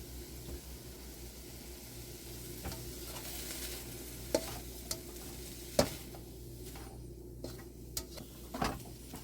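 Beef fried rice sizzles steadily in a wok on a home stove, with scattered scraping and clinking of a utensil against the pan stirring the rice, close and fairly quiet.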